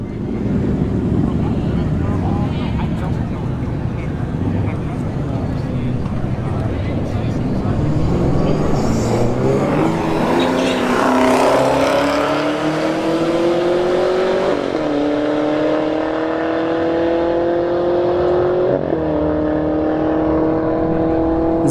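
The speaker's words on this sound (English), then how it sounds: "Alright, Elantra N in the right lane. A ZL1 Camaro in the left lane." A Hyundai Elantra N and a ZL1 Camaro race side by side at a drag strip, engines roaring hard as they climb through gears with brief shift breaks, loud and sustained over wind noise.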